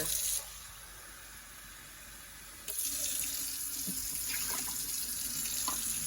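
Water pours into a pressure cooker, streaming steadily, briefly quieter then louder again, a continuous close-up splashing pour with no talking.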